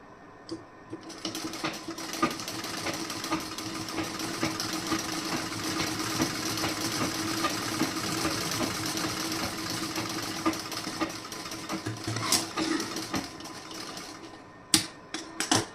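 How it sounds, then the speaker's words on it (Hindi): A sewing machine stitches a seam on a blouse, a continuous, even mechanical hum and rattle heard close and alone, with a few sharper clicks near the end. "इस साइड पर भी इसी तरीके से आपको सिलाई लगाना है।"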